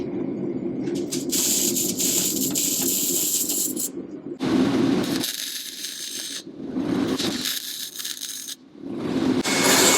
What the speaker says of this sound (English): Basically just going to weld it in place around where the rust is